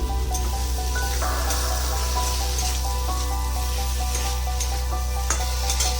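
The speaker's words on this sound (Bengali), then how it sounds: "এবার এর মধ্যে আলুগুলো দিয়ে দেবো" Potatoes tossed into a frying chilli-turmeric spice paste in a pan over a gas flame, giving a loud, steady, dense sizzle with crackles and spatters throughout, close up and without talk.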